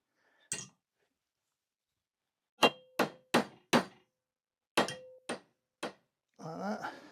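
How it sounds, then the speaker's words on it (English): A hammer strikes a metal car bracket clamped in a vise during a Jaguar XJC V12 manual conversion: one sharp clang, a pause, then a rhythmic run of four quick blows, three more spaced hits, and a short scraping rattle at the end. "get my hammer"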